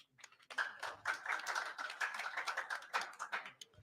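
Scattered clapping from an audience at a formal signing ceremony between a government and a doctors' union, a modest, uneven patter of hands that starts sparse, fills in briefly and thins out, with no talk.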